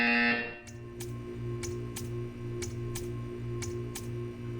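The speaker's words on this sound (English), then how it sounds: "You will hear a buzzer." A game buzzer in Portal 2 sounds as a series of sharp, evenly spaced beeps, about seven in a row, each short and bright, over a steady low electronic hum.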